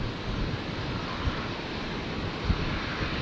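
A Qantas airliner passes over Brisbane Airport at night in stormy weather, a steady broad engine roar that holds level throughout without clear rise or fall.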